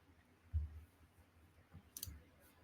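Computer mouse clicks during a software demonstration: a soft thump followed by a couple of sharp, quiet clicks, close to the microphone over low room noise.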